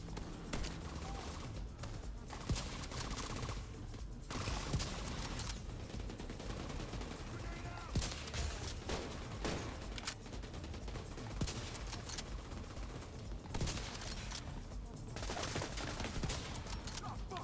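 Sustained firefights in the video game The Division 2: dense, rapid automatic gunfire rattles almost without pause, fairly faint and distant-sounding, with occasional sharper single shots.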